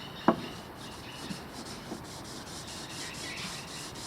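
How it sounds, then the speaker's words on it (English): Soft, steady rubbing strokes come from hand sanding the bodywork of a 1988 Suzuki GSX-R motorcycle. The scratchy back-and-forth passes are quiet and close, with one small knock near the start. "if you've got a line going this way, you sand this way"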